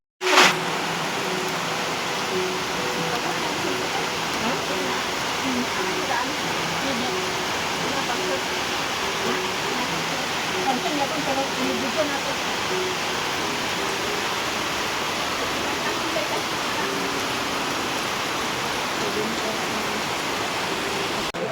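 Heavy rain pours down in a steady, dense broadband hiss that stays even and loud throughout, with no clear talk over it.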